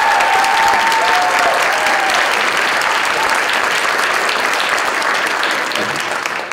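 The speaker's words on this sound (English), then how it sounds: "can we have another round of applause for these guys?" Audience applause at a school pops concert, dense sustained clapping that fills the whole stretch at full volume and thins slightly at the very end.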